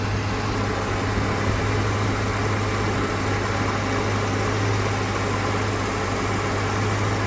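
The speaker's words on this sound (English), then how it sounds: "But here's the engine running." A 1994 Ford Mustang GT convertible's engine runs at a steady idle, a continuous low hum with a constant drone, heard close and without talk.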